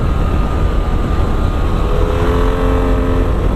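BMW F 800 R motorcycle engine running loud and close under hard throttle, a dense continuous roar with a rising whine as it pulls through the revs, wind noise throughout.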